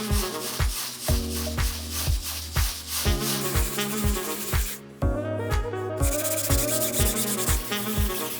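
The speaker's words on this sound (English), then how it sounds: "Sanding a larger canvas like this 30 by 40 can be a little tedious" Steady rhythmic scraping of a sanding sponge on a large 30 by 40 canvas, repeated back-and-forth strokes, close and continuous, with a short pause midway.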